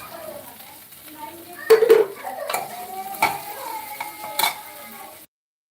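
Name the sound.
green beans and soaked cashews frying in a pan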